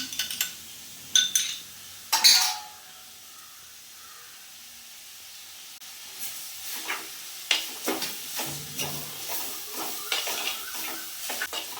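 A spoon stirs beaten egg into snake gourd thoran in a hot pan, with sharp scraping strokes and clinks early on, a quiet pause, then a run of softer, rhythmic stirring over a faint sizzle.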